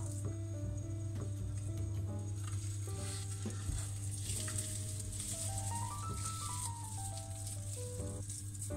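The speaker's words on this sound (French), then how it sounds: "je fais d'abord revenir mes oignons que j'ai coupés en fines rondelles" Thinly sliced onion rings sizzle steadily in a frying pan with leftover raclette-grill meats, a constant close frying hiss throughout, with soft clinks and stirring noises over it and a faint melody in the background.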